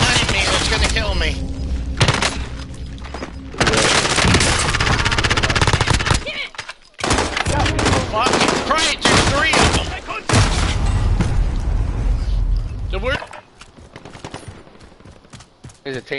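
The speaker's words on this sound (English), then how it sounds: "There's a team on the right that's shooting me." Rapid automatic gunfire from an enemy team rattles in sustained loud bursts in a shooter video game, broken by brief pauses and a sharp cutoff near the end, with a player's voice mixed in among the shots.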